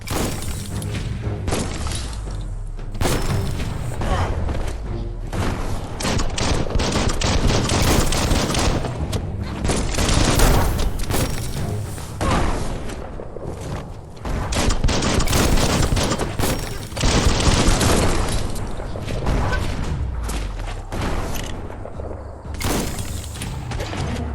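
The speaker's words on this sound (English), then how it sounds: "That's a bomb lobber." Bomb lobber enemies fire bombs in the PS5 game Biomutant, a dense barrage of loud blasts, crashes and bursts of gunfire crowding together nearly nonstop.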